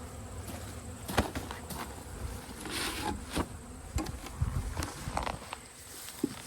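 Honey bees buzz around hives being readied for winter in early fall, a steady faint hum with brief louder passes of individual bees, plus a few soft knocks and footsteps nearby.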